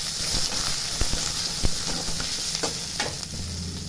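Ingredients sizzling and frying in hot oil in a pan for a Tamil fish kurma, with a steady close hiss and occasional stirring clinks throughout.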